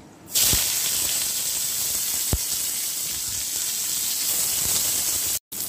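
A sudden burst of sizzling as chopped onion hits hot oil, then a steady, loud hiss of frying that continues with faint stirring clicks.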